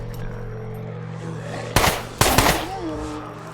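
Two short bursts of loud gunfire in the video game SCUM crack over a low background hum, with a faint voice briefly audible afterward.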